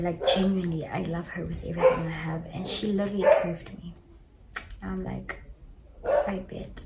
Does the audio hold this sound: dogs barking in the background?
yes